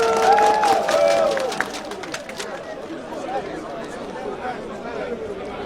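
Applause from an audience at a Guinea-related political gathering in Belgium, a broad clapping wash that swells early then thins into a softer crowd murmur with chatter, while a bird coos faintly in the first seconds.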